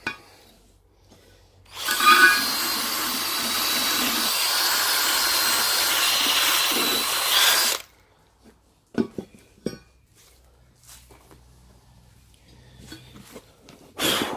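A fine wire brush scrubs rust off a trailer wheel, a loud, harsh rasping that runs for about six seconds alone, followed by a few scattered clinks and knocks.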